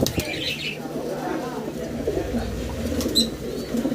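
Lahori pigeons coo softly and intermittently, with faint wing flaps and chirps, under someone speaking.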